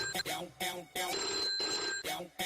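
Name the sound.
telephone ringing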